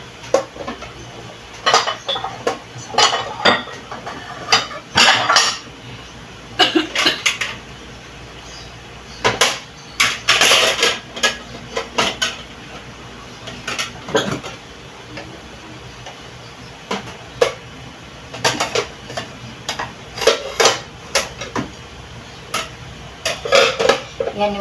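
Everyday dinner plates being handled and stacked in a busy home kitchen, with repeated ceramic clinks and clatters arriving in irregular bursts, close and fairly loud throughout.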